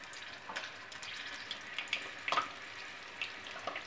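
Shrimp spring rolls fry in hot oil in a pan: a faint, quiet bed of sizzle dotted with scattered sharp crackles and pops.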